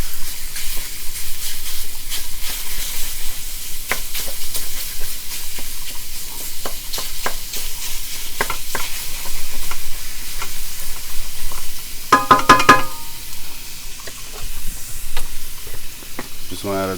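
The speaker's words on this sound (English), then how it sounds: "We're going to start with the sausage. We're just going to add that to the pan." Sausage browns in a hot pan for stuffed peppers, giving a steady close sizzle and frying hiss under repeated scraping and stirring strokes of a utensil, with a brief burst of louder clatter near the end.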